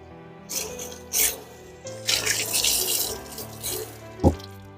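Reborn baby doll limbs rinsed under a running tap at a sink, irregular splashing and gushing water in bursts, close by, ending with a brief knock, with no talking.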